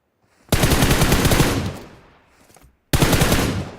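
Loud, close automatic gunfire from a battle royale video game comes in two rapid bursts of shots separated by a near-silent pause, with no voices.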